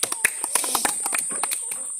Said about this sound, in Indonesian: tepuk tangan buat Adik Sarni